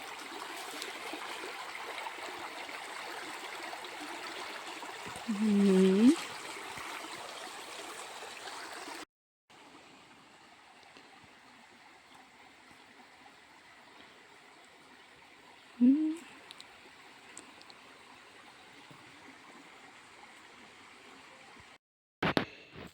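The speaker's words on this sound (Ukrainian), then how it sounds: "люблю як водичка так шумить" Stream water rushing steadily along a park path, a constant close hiss of flowing water with a brief gap midway and a couple of short interruptions.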